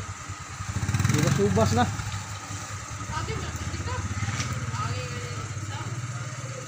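A motorcycle engine runs steadily at close range, its low chugging drone swelling briefly early on and then holding level beneath people talking.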